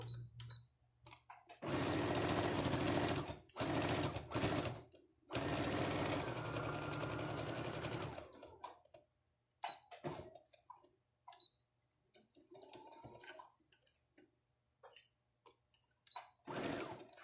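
A sewing machine runs two long bursts of fast stitching over a bag seam, going back to the starting point for a second pass, with quieter clicks, fabric handling and brief talk in the pauses.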